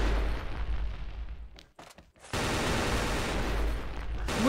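Loud, rapid gunfire in the shooter game XSHOT crackles in dense bursts, briefly cuts out, then resumes as continuous fire. No one speaks.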